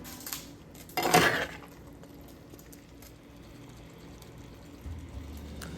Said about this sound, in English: add the cooked long beans and plantain to the spice mix. Give a quick mix.